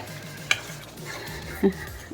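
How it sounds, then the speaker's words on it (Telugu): A spoon stirs prawn curry with fresh coriander in a pot, giving a soft scraping swirl with one sharp clink of metal against the pot and a low bump near the end, all close by with no talking. "కొత్తిమీర వేసుకున్నాక ఒకసారి కలిపేసుకుందాము"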